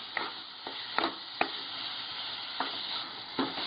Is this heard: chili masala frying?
yes